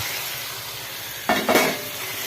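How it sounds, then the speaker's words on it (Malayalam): Crushed garlic and ginger drop into a hot pan, setting off a sudden loud sizzle about halfway through. The burst swells twice, then settles into a steady frying hiss. "വെളുത്തുള്ളിയും ഇഞ്ചിയും ഞാൻ ചതച്ചിട്ട് വെച്ചിട്ടുണ്ട്, അതാണിപ്പോൾ ചേർത്ത് കൊടുക്കുന്നത്"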